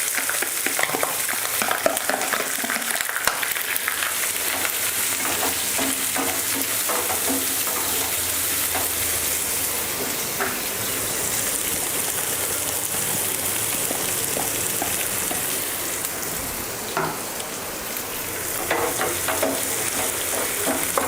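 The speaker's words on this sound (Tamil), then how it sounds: "இதை வந்து நல்லா ஒரு கோல்டன் ப்ரௌனுக்கு ஃப்ரை பண்ணிக்கோங்க" Small chopped onions fry steadily in hot oil in a pan while being stirred, a continuous loud sizzle with scraping clinks from the spoon throughout, no voices.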